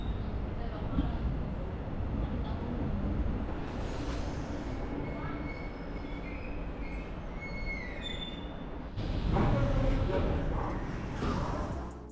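Railway station platform ambience in Korea, with a low rumble of rail traffic and high squealing wheel tones rising and fading, and the noise swelling louder toward the end.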